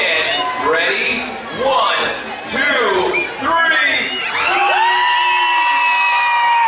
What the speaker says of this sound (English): Let's all scream, cause it's Halloween.